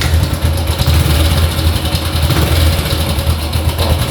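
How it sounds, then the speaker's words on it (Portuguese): A Honda Biz 100 motorcycle engine with a noisy cam chain idles close up, a loud, steady low chug with a rapid rattling texture running through it. "Eu vou ligar essa aqui para vocês verem o barulho que ela tá fazendo."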